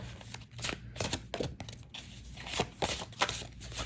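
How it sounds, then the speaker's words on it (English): Tarot cards riffle and flap in quick, uneven bursts of crisp slapping, close and fairly quiet, as the deck is shuffled repeatedly. "the corner poker shuffle?"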